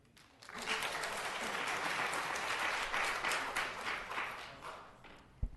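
Applause from the audience at a city council special meeting, a dense patter of many hands clapping that builds quickly, holds for several seconds, then thins out to scattered claps in a large room.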